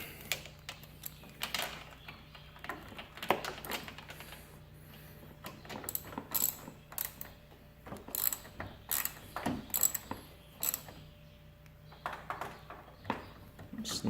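A ratchet wrench with a 13 mm socket snugs a nut down on a condenser stud during a liquid tap install, giving rapid irregular bursts of clicking at close range with short pauses between strokes.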